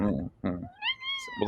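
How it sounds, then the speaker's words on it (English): A domestic cat gives a single clear, drawn-out meow in the middle, falling slightly in pitch, nearby and fairly loud between bits of a person's conversational speech. "That was a very classic meow."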